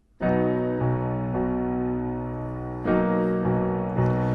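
Low piano notes played by the left hand in a steady, repeating 16th-note rhythm, ringing out alone and close.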